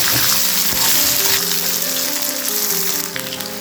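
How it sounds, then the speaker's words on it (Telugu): Green chillies sizzle and crackle loudly in hot oil in a pan alongside lentils for raw tamarind chutney, a steady dense frying hiss close up with no talk. "అలాగే పచ్చిమిర్చి కూడా వేసేసుకున్నాం. ఇవి కూడా మంచిగా వేగాలి."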